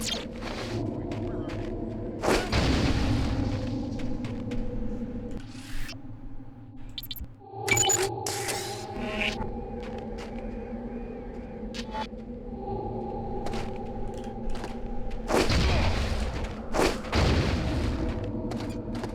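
Concussion grenades go off in the first-person shooter Deus Ex: Invisible War, landing as deep booming blasts with heavy rumbling tails amid gunfire and a thumping scuffle, loud and close with several separate bursts.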